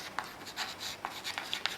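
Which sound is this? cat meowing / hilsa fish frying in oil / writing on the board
writing on the board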